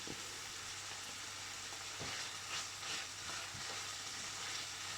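Small bacon lardons fry in a pan for carbonara, a faint steady sizzle with three soft stirring knocks spaced a second or so apart, quiet and without voices.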